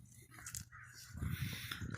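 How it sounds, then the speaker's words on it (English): Harsh crow caws ring out a few times at moderate distance over a low background rumble, outdoors in rain and wind. "And the crows are flying."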